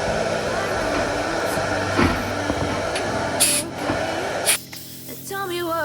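ToolPRO sandblasting cabinet with its vacuum switched on, a steady loud hissing rush of blasting air that runs almost continuously, with brief bursts and a sudden drop near the end as music begins.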